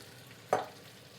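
A short burst of sizzling as cubed, peeled potatoes go into a soup pot of browned garlic, flaring loudly for a moment and then settling to a faint hiss over a quiet kitchen background.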